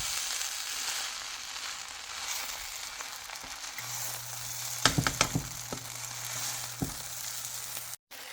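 Singaporean fried rice sizzles steadily in a hot pan, a constant close frying hiss broken by a few sharp clinks and scrapes of a utensil against the pan as it is stirred.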